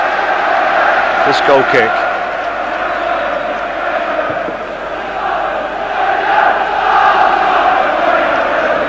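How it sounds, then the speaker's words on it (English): Football crowd at a Premier League match between Sheffield Wednesday and Tottenham Hotspur, a continuous dense roar of chanting and cheering from the stands with a commentator talking over it. "the home crowd certainly behind their team, the Spurs fans behind theirs"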